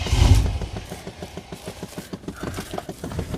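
1994 Chevy Silverado K1500 with a 5.7L engine cranking, a thump at the start followed by a steady rapid chug of the starter turning the engine over without catching, loud and close, with no voices.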